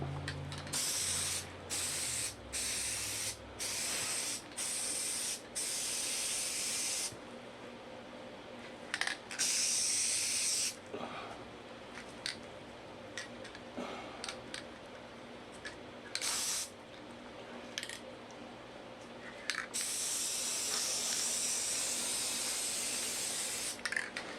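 Repeated close hissing sprays from an aerosol glue can onto the back of a tufted rug, short bursts then longer sustained blasts, with quiet handling sounds between.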